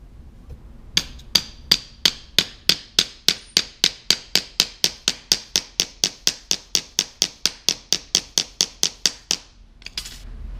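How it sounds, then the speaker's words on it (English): Wire being hammered flat into wood to form a groove while building a DIY ice fishing tip-up: about thirty sharp, evenly spaced hammer strikes at a steady quick rhythm, close and loud, with no talking. "I'll just kind of hammer that down, get it nice and flat"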